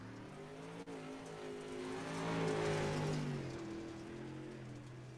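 Modified touring race cars at full throttle around Volusia Speedway, a steady loud roar of several engines rising to a peak midway as they pass close, then easing off, with a brief tire squeal and no talk.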